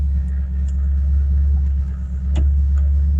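A 2006 Ford Mustang GT with a muffler delete idles with a deep, steady, loud rumble and no talking over it.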